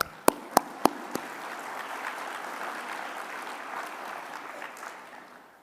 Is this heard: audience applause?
yes